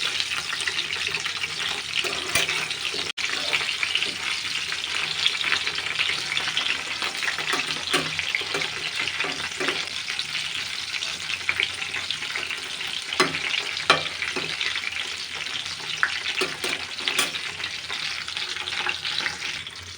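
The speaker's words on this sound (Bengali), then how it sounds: "একটু সময় নিয়ে আস্তে আস্তে ভেজে নিতে হবে।" Chicken pieces fry in a pan with a constant loud, dense sizzle and crackle, broken by occasional clicks and stirring, with no talking.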